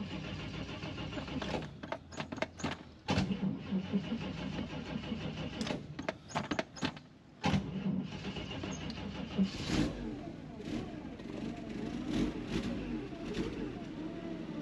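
A 1952 Chevrolet Deluxe engine, warm from driving, cranks by push-button starter and catches, then idles and revs with a rough mid-pitched rumble, with a few sharp clicks and breaks along the way.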